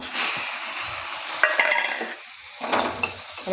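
Onion paste and crushed garlic fry with panch phoron spices in hot oil in a wok, a bright, steady sizzle broken by scraping stirs and clinks of the spoon against the pan.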